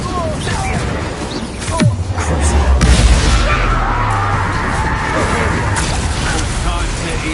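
In Hogwarts Legacy, the Incendio fire spell is cast in combat, giving a loud whooshing burst with booming impacts amid other battle effects and game voices.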